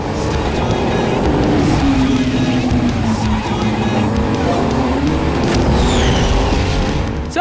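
Toy cars race in the Wii U video game Super Toy Cars, engines droning loudly and continuously with a rising and falling whine and occasional tire squeal.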